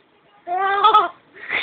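A person imitates a horse whinny with a nasal, bleating voice at close range, one sustained wavering call lasting about half a second, followed by a brief breathy sound.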